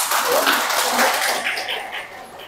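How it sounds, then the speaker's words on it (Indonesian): An audience at a large BKMT religious study gathering in Mandai, Maros claps briefly, a dense burst of applause that swells and then fades over a couple of seconds. "Aplaus dulu."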